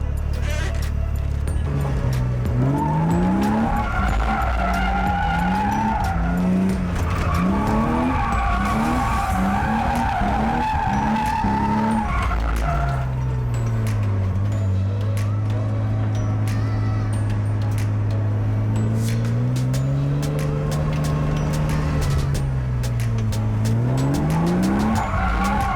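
A drift car's tires squeal and skid through a corner, rising and falling in long continuous screeches over loud engine noise throughout.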